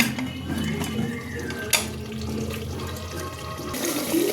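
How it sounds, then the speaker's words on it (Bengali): Mutton curry being stirred in a pot as it starts to stick to the bottom, with a steady scraping, bubbling sizzle and occasional clinks of the spoon against metal. "আবার একটু নেড়ে দিই কলাই লেগে যাচ্ছে তো"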